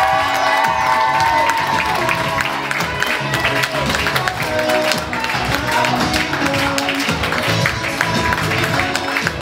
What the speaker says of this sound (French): Je vais vous demander un tonnerre d'applaudissements pour les coachs